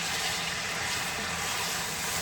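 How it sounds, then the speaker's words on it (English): A steady, broadband hiss of cheeseburger pie filling sizzling in a pan, constant and moderately quiet with no voices. "listen to that sizzling, ain't it?"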